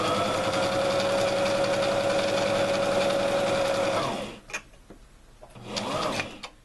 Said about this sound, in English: Have the sewing machine ready here.